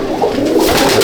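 A pigeon coos at a loft in Akra, Kolkata, a low, soft, continuous throaty murmur heard up close over about a second, with no talk over it.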